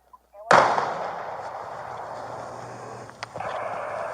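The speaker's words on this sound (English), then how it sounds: "they're shooting at me" A single sharp gunshot cracks loudly during a police standoff, captured on a bodycam, then rings out into a long, noisy decay with a faint second impact near the end.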